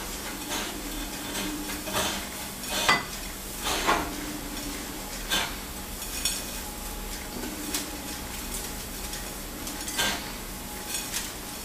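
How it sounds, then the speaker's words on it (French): Breaded Sicilian arancina lowered into hot frying oil, giving a steady crackling sizzle with scattered clinks of utensils and pans throughout, close and moderately loud, with no talking. "Et je vais la déposer dans la friture."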